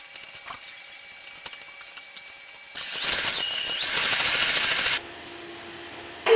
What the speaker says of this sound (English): give it a little stir, scrape all the edges and the bottom of the bowl